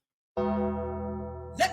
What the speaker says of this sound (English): Yo, he hit the gong.